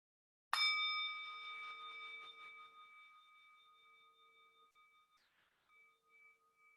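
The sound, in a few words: meditation bell rung once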